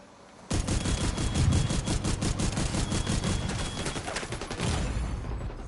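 Rapid automatic gunfire in the video game The Division 2, dense bursts of shots starting abruptly and continuing almost without pause, loud and close throughout.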